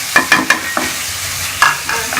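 Spoon stirring green chillies and spices into a potato samosa filling in a pan, a few sharp scraping knocks in quick succession over a soft sizzle, close and loud.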